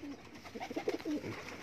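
A pigeon coos softly on a rooftop, a short low murmuring call rising and falling over faint background noise.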